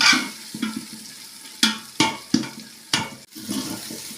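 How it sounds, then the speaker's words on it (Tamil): Ginger garlic paste fries in a pan for mutton biryani while a spoon stirs it, with a close, steady sizzle broken by several distinct scraping strokes. "இஞ்சி பூண்டு சேர்த்த பிறகு அப்பப்போ கலந்து விட்டுட்டே இருங்க"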